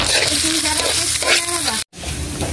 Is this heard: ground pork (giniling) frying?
yes